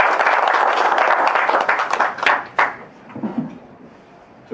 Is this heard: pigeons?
no